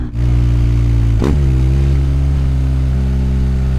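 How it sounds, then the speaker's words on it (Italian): A BMW R 1250 GS Adventure boxer twin with an Akrapovič exhaust idles loudly and steadily, with one quick blip of the throttle and a low, throbbing twin-cylinder rumble that continues close by. "sto facendo delle prove per tenere il motore un po' su di giri"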